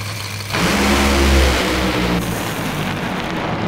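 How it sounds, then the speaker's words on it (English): Two NHRA drag racing cars launch at the Arizona Nationals, hazing their tires with a sudden thunderous roar that erupts after a brief idle, peaks loudly, then holds as a broad, harsh engine blast. "They both haze the tires, but Doug holds on and gets the win"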